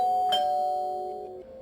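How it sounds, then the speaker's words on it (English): A doorbell rings once with a bright ding-dong chime, its tones ringing out and fading slowly, fairly close and clear with no voices. "At about 7:45 p.m. I hear the doorbell ring"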